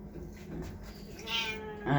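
A cat meows while waiting at an elevator door, a couple of drawn-out cries rising near the end, close and clear over the low hum of an elevator.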